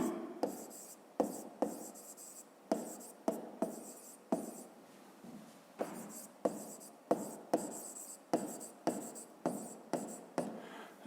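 A pen writes notes by hand on paper in a quiet room, with a run of short scratchy strokes separated by brief pauses, steady and close.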